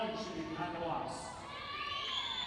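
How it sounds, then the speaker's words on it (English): Teammates cheer and shout for a young swimmer finishing the 4 IM at a June trials and finals swim meet, a steady crowd roar with higher children's shouts rising over the natatorium noise. "Nice to hear all of his teammates cheering for him here"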